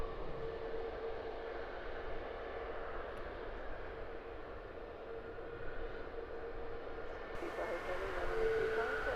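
An EasyJet Airbus A320-200 at Luton Airport gives a steady, fairly faint jet roar that swells slightly toward the end, with a voice talking at times over it.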